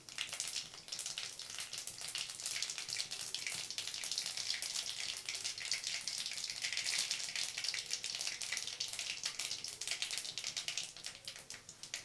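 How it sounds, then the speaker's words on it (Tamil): Mustard seeds and urad dal spluttering in hot oil, a steady dense crackle and hiss of tiny pops that continues without pause, close and fairly quiet. "கடுகு பொரியட்டும்."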